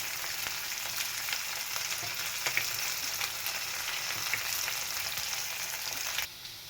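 Carrots and beans sauté with ginger garlic paste in a hot pan, making a continuous close sizzle with stirring scrapes that cuts off abruptly at the end.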